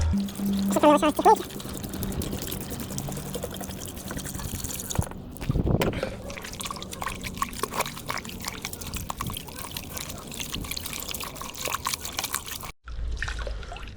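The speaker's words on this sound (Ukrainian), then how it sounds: "після фейрі цього ще полоскаємо його звичайною водою" Water splashes and trickles as a foam air filter from an enduro motorcycle is rinsed and squeezed under running water, up close, with no one speaking.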